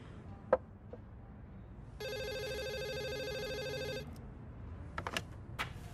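A telephone rings in an office scene of a New Year family comedy film: one steady electronic trill lasting about two seconds, mid-clip, fairly loud over a quiet room with a few small clicks and no talk.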